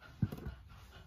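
Cocker spaniel panting in short quick breaths during a grooming session, close and quiet, with no voices.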